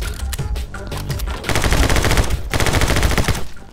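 Rapid bursts of gunfire from the action video game My Friend Pedro, dense and loud throughout, with rattling automatic volleys that grow heavier midway and continue almost without pause.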